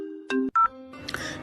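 Mobile phone ringtone for an incoming call from a mother, a few short electronic tone bursts close and clear before a brief chirp and fuller tone pattern, in a comedic husband-and-wife domestic scene.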